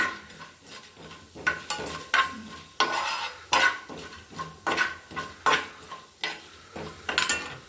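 Urad and chana dal being stirred in a frying pan for sabudana upma, with repeated close scrapes and clinks of a spoon against the pan over a faint sizzle.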